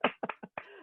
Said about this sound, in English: Nobody else can applaud but me, so I'm going to applaud.